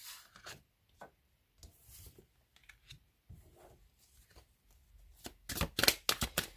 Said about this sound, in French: Alors, je vais remonter les cartes.